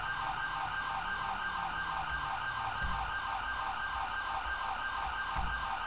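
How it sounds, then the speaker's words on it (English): An ambulance siren in GTA 5 wails steadily and loudly with a repeating tone, with faint vehicle rumble and occasional thumps underneath. "Let's call an ambulance"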